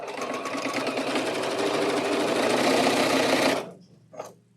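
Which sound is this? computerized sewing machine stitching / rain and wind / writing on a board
computerized sewing machine stitching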